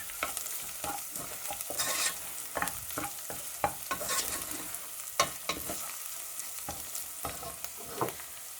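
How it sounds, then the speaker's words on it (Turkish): A spoon stirs chili flakes into a pot of Kütahya sıkıcık soup, with repeated scraping strokes against the pot over a low sizzle, close and moderately loud, no talking. "şöyle bir yemek kaşığı kadar biraz pul biber iyice karıştırıyorum tekrar"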